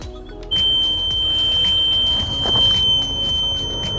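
Carp fishing bite alarm screaming continuously on a fast run at a lake, a sustained high-pitched electronic tone over outdoor rustling and handling noise.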